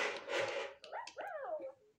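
A toy robot dog, a Christmas present that walks and dances, gives a short electronic yapping bark, a burst of bright noisy sound followed by warbling synthetic yelps, close and fairly loud, about two seconds long.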